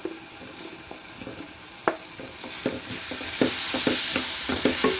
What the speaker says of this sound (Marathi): सर्व मिक्स करायचं आहे